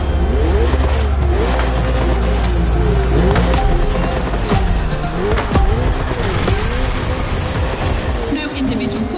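Racing engines from The Crew Motorfest video game, a Ferrari and a Red Bull race car on a circuit, rev loudly and continuously with rising and falling pitch sweeps and tire squeals, a dense steady roar throughout.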